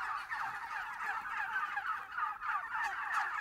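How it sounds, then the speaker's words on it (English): Organic turkeys about 11 weeks old gobble on a farm in a dense, continuous flock chorus, overlapping calls rising and falling steadily and close by, with no talk over them. "These turkeys are about 11 weeks old at this stage."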